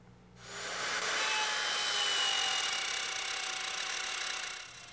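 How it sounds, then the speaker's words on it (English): A router bit makes a conventional left-to-right pass through veneer plywood during cabinetmaking, a loud, steady, high whining rasp that starts abruptly after a quiet moment and holds for several seconds before easing off. "On this first pass, I'm going to go from left to right in the conventional way because the bit is fully engaged."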